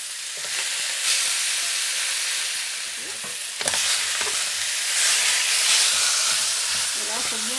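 Meat browning in a pan with very little fat during a cooking contest, a steady close sizzle with stirring scrapes and occasional spoon knocks, rising slightly in intensity toward the end.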